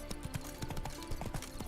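Horse hooves clip-clop in a quick, uneven trot in The Witcher 3, close but soft, repeating steadily over low game ambience.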